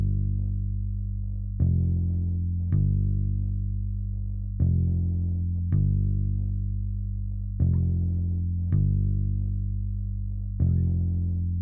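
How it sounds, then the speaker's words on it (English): A finished bass line played on an Experimenter X bass synth, with deep sustained bass notes in a slow repeating pattern, each note starting with a sharp attack, heard alone with no other sounds. "The finished bass line sounds like this."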